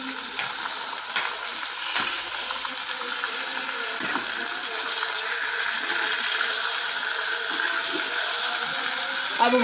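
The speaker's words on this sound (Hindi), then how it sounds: "अब गोश्त को हम इसके अंदर अच्छे तरीके से भून लेंगे" Meat sizzles and fries among browned onions in a karahi pan for shinwari karahi, a steady loud hiss with occasional stirring scrapes throughout.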